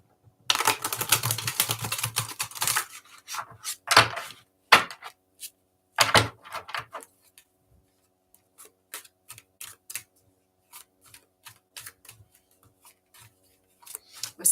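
Tarot card deck being shuffled by hand: a dense flurry of riffling card flicks, then scattered soft taps and clicks with quiet gaps, close by.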